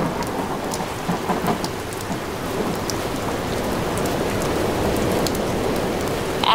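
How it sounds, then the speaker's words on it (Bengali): Cartoon-style thunderstorm effect: dense, steady rain pounds down with strong wind, and thunder rumbles through it. The downpour stays loud and continuous throughout, with no voices. "জোরে জোরে বাতাস শুরু হলো, আর সেই সাথে শুরু হলো বৃষ্টি।"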